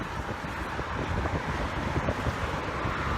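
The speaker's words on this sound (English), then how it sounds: "when that wind hits you, ooh, it gets cold." Cold morning wind blowing outdoors beside a road, a steady broadband rush buffeting the microphone at moderate level, with no voices.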